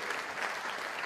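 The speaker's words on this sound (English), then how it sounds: "But don't applaud" An audience at a live speaking event breaks into steady, dense applause that holds at an even level for about a second.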